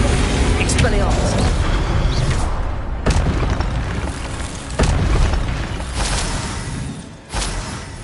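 A spell blast in the Hogwarts Legacy video game bursts out as a loud boom with whooshing swells, and a second sharp hit follows. A voice calls out over dense, noisy game audio.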